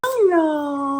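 A dog gives one loud, close howl that rises, then slowly falls and holds as a long, steady tone.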